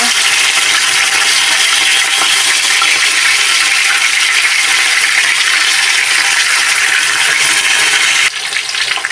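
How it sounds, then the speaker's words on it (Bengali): Pieces of rohu fish fry in a pan of hot oil, giving a loud, dense, continuous sizzling hiss close up that barely changes until it eases slightly near the end. "বাকি যে মাছগুলো রয়েছে সেগুলো আমি ভেজে নেব"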